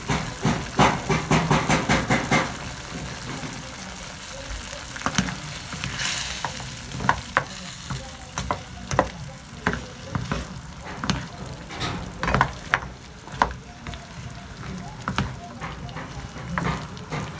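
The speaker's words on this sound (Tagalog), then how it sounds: "Halu-haluin lang natin para yung taste ng sabaw natin ay mapunta sa string beans" String beans con carne sizzle in a pan with broth while being stirred, the spatula scraping and clattering in a loose rhythm over a steady frying hiss.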